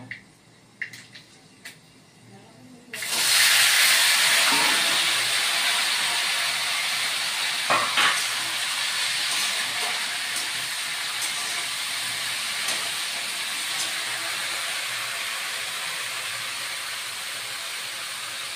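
Pumpkin greens and stalks go into a hot pan for a vegetarian chorchori. After about three quiet seconds a loud, close sizzle bursts in and holds steady, with a few faint clinks along the way.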